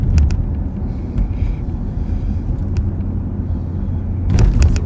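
A sheriff's patrol car driving slowly gives a steady low engine and road rumble inside the cabin, with a few faint clicks and a swell of noise near the end, no talk.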